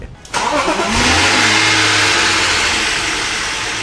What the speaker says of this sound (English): I managed to start the engine for the first time, but it didn't sound great